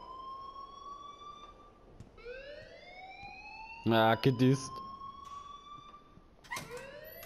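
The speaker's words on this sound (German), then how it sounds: "please turn off that alarm since that's your job" Ringing school alarm in the Life is Strange video game, a steady electronic tone with rising siren-like sweeps running throughout, while a short burst of talk breaks in midway.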